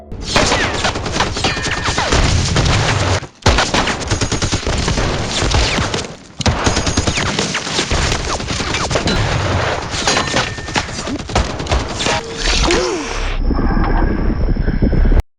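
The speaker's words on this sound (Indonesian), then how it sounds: "Tiba-tiba Ubermensch melepaskan tembakan dari kegelapan" Sustained, dense gunfire in a film battle scene, with rapid overlapping shots and heavy booms filling nearly the whole stretch, broken by a few brief drops before a slightly thinner final burst; loud and continuous, no voices.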